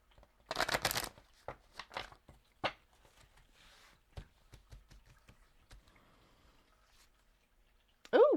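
Crystal oracle cards are shuffled by hand in a burst of dense riffling from about 0.5 to 1 second, followed by scattered soft card clicks and slaps, with a brief voice at the very end.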